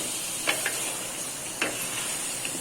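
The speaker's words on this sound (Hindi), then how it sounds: "अब मैं इसको इसके साथ अच्छे से फ्राई कर लूँगी, अदरक लहसुन के साथ भी" Steady sizzle of ginger and garlic paste frying in a pan, with a few soft stirring scrapes over continuous hiss.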